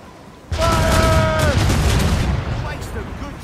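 Ship cannons fire in the video game Assassin's Creed Rogue: one sudden loud blast, then a long rolling rumble that slowly fades, with a brief tonal voice-like sound over the start.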